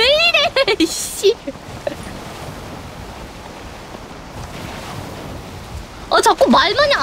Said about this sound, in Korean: 와 파도 진짜 세다